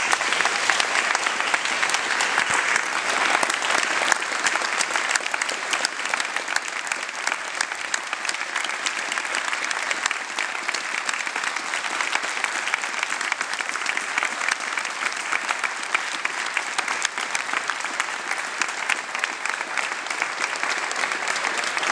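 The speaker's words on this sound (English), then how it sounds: "Let's give a big round of applause to those two guys." A large audience at an evening ceremony in Halifax, Nova Scotia, breaks into long, continuous applause, a thick, even roar of clapping hands that holds steady for over twenty seconds without easing off.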